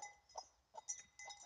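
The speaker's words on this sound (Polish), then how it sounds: "Foka, jest tu baran." A ram bleats faintly on a small farm among poultry, giving a few short, wavering calls spaced apart at a distance. No one speaks.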